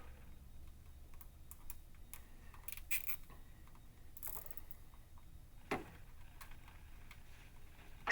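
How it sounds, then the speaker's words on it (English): A cable tie on a multipair shielded DMX data cable is trimmed, giving faint plastic clicks and one sharp snip against quiet room background. "Trimming off the extra piece of the tie wrap."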